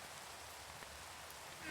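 Steady rain falls in a Minecraft-style video game world, a dense even hiss of drops that holds at a constant level throughout, quiet and without talk.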